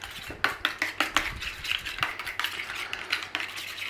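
A spoon stirs Nando's-style sauce in a bowl, giving a quick series of light metallic clinks and scrapes against the sides in an uneven rhythm, close and fairly quiet.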